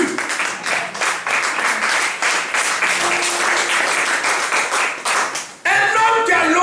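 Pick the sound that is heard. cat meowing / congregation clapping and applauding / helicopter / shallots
congregation clapping and applauding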